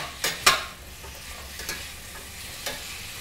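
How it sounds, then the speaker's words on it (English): Mirepoix of onions, celery and carrots sautéing in a pan: a steady close sizzle with a few sharp clinks and scrapes from stirring, loudest near the start. "We're going to use a mirepoix, which is onions, celery, and carrots. And we're going to saute that for a little while"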